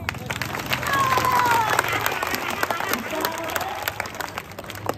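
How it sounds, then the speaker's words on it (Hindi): Audience at a speech on the ulema's role in the independence struggle breaks into dense applause, many hands clapping steadily throughout with some cheering, fairly loud and close. "जोर से तालियां बजाओ"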